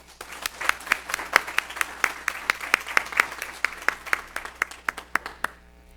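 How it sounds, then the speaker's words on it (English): A small audience claps, the individual hand claps distinct and evenly spaced at a brisk pace, moderately near, tapering off toward the end. "How about one more round of applause?"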